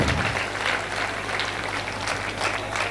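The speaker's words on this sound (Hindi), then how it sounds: "जबलपुर के लिए एक बार तालियां तो जोर से बजना चाहिए सर।" Audience applause at a Jain youth federation convention in a hall, a dense steady wash of clapping from many hands, sustained and fairly loud throughout with no talk over it.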